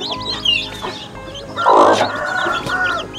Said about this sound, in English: So now we will put the chicks here inside together with the mama.